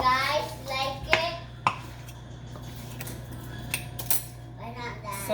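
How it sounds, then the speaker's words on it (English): Metal fork stirring and combining banana bread batter in a bowl at home, giving a few sharp clinks and taps against the bowl over a steady low hum, with quiet scraping between the hits. "I'm just gonna use my fork and kind of like combine this thing together."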